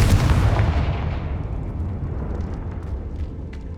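A Confringo spell explodes in the video game Hogwarts Legacy: one loud, deep boom that rolls on as a long, slowly fading rumble with no voices.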